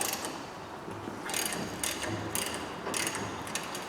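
A breaker bar cracks loose the Torx brake bolts on a Peugeot 208, giving a few sharp ratchet-like clicks in a steady rhythm over a low background hum.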